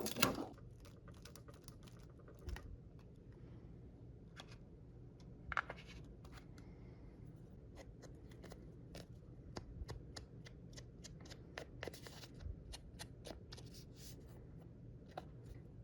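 Sticker number stamps are peeled and pressed into a handmade junk journal, giving faint, sparse paper crinkles, light taps and soft rustles spread irregularly across a quiet room.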